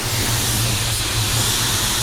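A paint spray gun sprays in a steady, loud, broad hiss with a low pulsing hum beneath, continuous and close.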